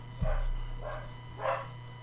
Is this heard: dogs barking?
yes